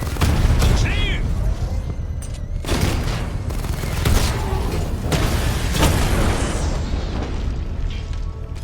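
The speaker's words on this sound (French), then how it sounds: "La charge de la bombe est explosée." A bomb charge goes off in the Batman: Arkham Knight video game: several heavy booming blasts burst out in sequence over a rumbling backdrop of gameplay noise, with speech woven between them.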